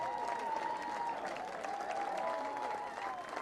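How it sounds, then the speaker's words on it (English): Crowd on Revere Beach applauding and cheering the winner of the 2014 National Sandcastle Competition, a steady wash of clapping throughout with voices mixed in. "Crowd goes wild."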